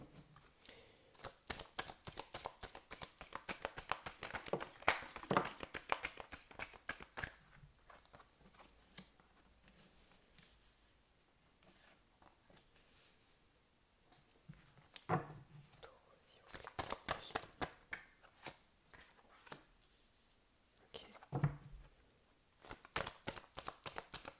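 Tarot cards being shuffled by hand, bursts of dense riffling and slapping patter that come and go across the stretch, close and fairly quiet, with pauses between shuffles.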